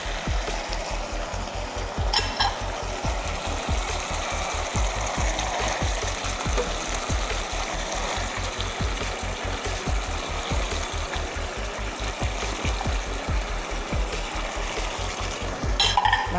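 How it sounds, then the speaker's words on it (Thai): Eggplant stir-fried fast in a pan with curry paste, fish sauce and oyster sauce, giving a steady close sizzle with quick rhythmic scraping and clacking of the utensil throughout. "ก็ผัด มะเขือคลุกเร็ว ๆ เลยนะคะ"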